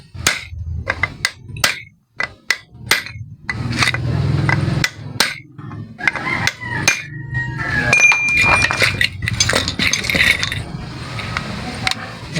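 A hammer strikes a chisel to loosen parts of a 250cc big-bike motorcycle carburetor: a run of sharp metallic blows in an uneven rhythm, close and loud, with clinks and handling noise between strikes.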